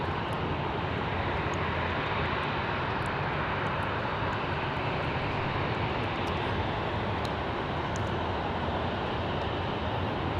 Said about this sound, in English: popping into view is a lovely A330 Neo from Tokyo Haneda